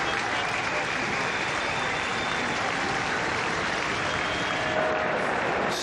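A massive racecourse crowd at Rosehill Gardens applauds a champion racehorse, with dense, continuous clapping and cheering held steady throughout.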